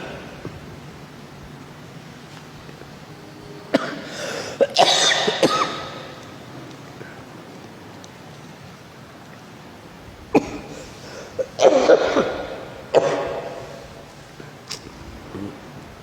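Several loud coughing fits break a quiet room, a pair of harsh bursts near the start and another cluster later, with softer coughs trailing off.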